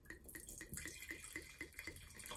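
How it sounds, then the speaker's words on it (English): Yellow Tail pink moscato wine pouring into a glass, a quiet, steady liquid stream with rhythmic glugging pulses from the bottle, close and faint with no talk. "So let's go ahead and pour a little bit of glass."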